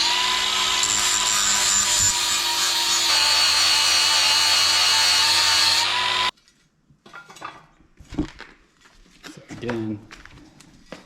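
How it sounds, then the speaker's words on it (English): A power tool sharpens lawn mower blades for a Cub Cadet XT2 SLX50, a steady loud grinding whine for about six seconds that then cuts off, followed by someone talking over faint clatter. "so I can sharpen the other ones, throw them on, sharpen these ones,"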